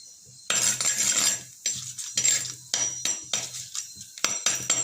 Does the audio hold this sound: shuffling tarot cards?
no